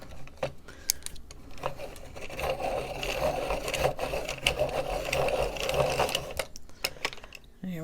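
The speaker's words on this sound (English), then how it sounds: "I really need to sharpen that one." A rosy pink colored pencil being turned in a sharpener, a close, steady grinding rasp for several seconds with a few clicks and handling knocks around it.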